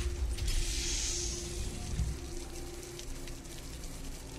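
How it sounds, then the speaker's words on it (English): Machinery in a room in the Wasteland 2 video game whirs and clanks, giving a low mechanical drone with a faint high whine and scattered creaking, ratcheting clicks, moderately quiet and without voices. "what the machines in this room do, but they sure make a lot of noise doing it"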